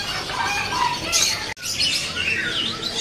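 Many magpie robins sing at once at a bird shop, a busy chorus of overlapping whistles, trills and chirps, close and loud, briefly cut off midway before resuming.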